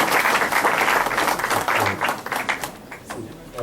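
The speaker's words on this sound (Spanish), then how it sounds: "Un aplauso" Audience applause at a seminar on financial series modelling, a dense, steady clatter of many hands clapping for a few seconds, fading slightly toward the end.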